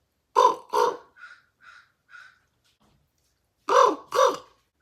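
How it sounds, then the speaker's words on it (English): Loud, harsh caws from a crow on a power line, two at a time, with a few softer calls in between, then another pair; nothing else in the background. "There's a crow right on the power line here."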